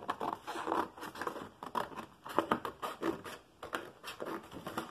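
A full sheet of cardstock is cut in half by hand, giving a run of close, crackling, rasping strokes with short pauses between them.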